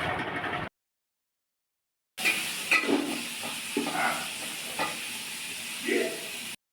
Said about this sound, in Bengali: তারপর দেবে এই গাজর, বিন কড়াই সব ভেজে নেবো আমরা।